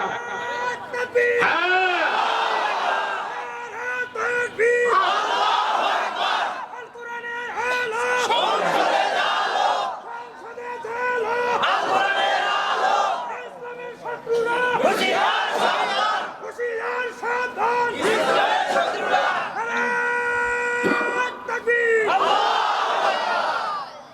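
A large crowd at a rally in Bogura, Bangladesh chants slogans in loud, repeated rhythmic bursts with short pauses, voices roaring together close and continuous.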